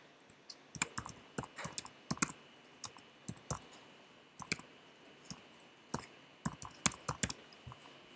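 Typing on a computer keyboard, close and fairly quiet, bursts of quick key taps with short pauses between them, no one talking.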